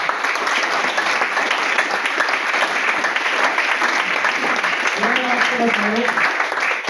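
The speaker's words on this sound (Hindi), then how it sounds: "एक बार अपने लिए तालियां बजाएं।" A crowd at a business-plan presentation applauds steadily and loudly throughout, with a voice speaking Hindi briefly rising over the clapping near the end.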